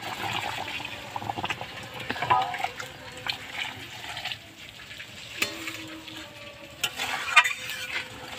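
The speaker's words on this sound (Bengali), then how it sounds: "এবার আমি জল দিয়ে দিচ্ছি। তো জলটা কিন্তু আমি অবশ্যই গরম জল দিচ্ছি।" Magur fish curry sizzling in a pan as hot water is poured in, giving a soft steady frying hiss with a few sharp crackles and scrapes, fairly faint and without speech.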